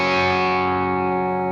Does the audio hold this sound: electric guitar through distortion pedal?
yes